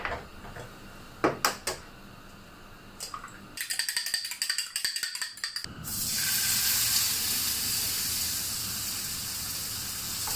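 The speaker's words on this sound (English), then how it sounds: "you can see while my luncheon meat is frying" Quick rhythmic clinking of eggs being whisked gives way to a loud, steady sizzle of luncheon meat frying in a hot pan.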